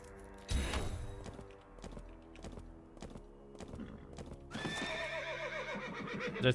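A horse whinnies loudly amid steady clip-clopping hooves, then a second shrill neigh rises near the end, all with a game-like, synthetic quality, from the video game RaiderZ.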